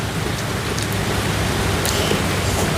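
Rain falls in the rainy season as a steady, dense hiss with a constant broadband wash and no breaks or voices.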